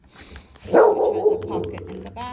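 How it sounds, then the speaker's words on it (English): A dog barks once loudly nearby, followed by a trailing whine, while a person keeps talking. "Sorry about my dog."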